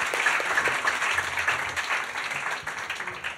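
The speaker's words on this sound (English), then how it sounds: "Big round of applause." Moderate applause from a live audience at Hugh's Room in Toronto during an interview event, steady clapping that slowly thins over a few seconds against a faint steady tone.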